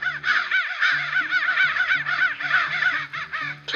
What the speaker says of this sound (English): beset by carrion crows